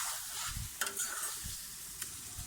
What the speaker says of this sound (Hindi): आलू के साथ इसको हम 2 से 3 मिनट तक अच्छी तरह से भून लेंगे।